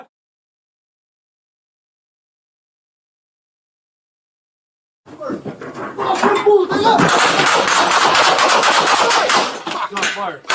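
Gunfire erupts during a police confrontation with an armed suspect, a loud chaotic burst of sharp cracks that starts abruptly after silence, mixed with officers shouting over it.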